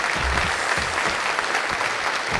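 A studio audience on a talk show applauds a senator guest, a full, even burst of many hands clapping close by with a low murmur of crowd underneath.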